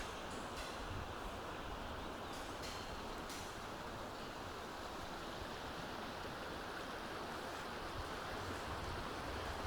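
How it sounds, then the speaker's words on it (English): An Alaskan creek flows with chunks of ice drifting around a bend, giving a soft, constant rushing wash that stays faint and steady throughout, with no voices. "This beautiful creek. Look, there's even ice flowing around the bend coming towards us."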